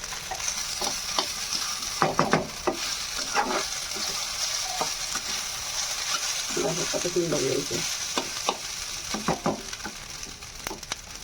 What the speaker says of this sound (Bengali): আর একটু ভাজা ভাজা করে নেবো।